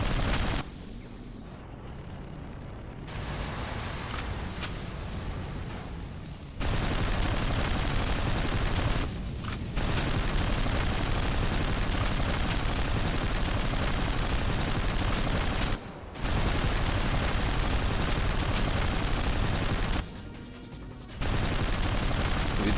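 Sustained heavy gunfire in the post-apocalyptic vehicle combat game Hard Truck Apocalypse, a loud, unbroken roar of automatic shooting, cut by a few short pauses before resuming.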